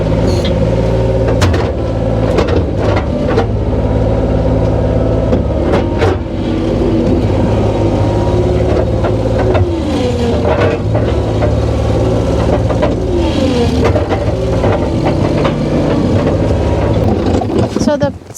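The engine of a cherry picker log loader crane drones loudly and steadily in an Adirondack forest, a low, continuous mechanical hum with shifting tones and occasional clanks.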